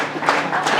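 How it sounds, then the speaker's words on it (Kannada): Applause from an audience opening an army rally event, a brief dense patter of many hands clapping together at close range. "ಎಲ್ಲರೂ ಚಪ್ಪಾಳೆಯ ಮೂಲಕ ಈ ಕಾರ್ಯಕ್ರಮವನ್ನು ವಿದ್ಯುಕ್ತವಾಗಿ ಪ್ರಾರಂಭಿಸೋಣ"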